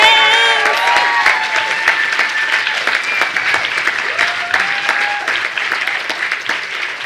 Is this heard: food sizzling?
no